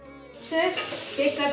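Pakoras fry in hot oil at an outdoor picnic, a short burst of sizzling and bubbling that swells after a quiet start, heard up close.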